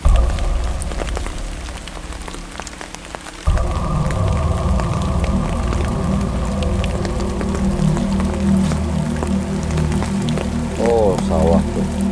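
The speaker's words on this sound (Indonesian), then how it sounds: "Hujan tuh. Gerimis. Nggak gede sih, cuma gerimis." Light drizzle falls in rural Indonesian countryside beside rice paddies near an abandoned house, a steady soft patter under ambient noise, with voices talking faintly through the clip.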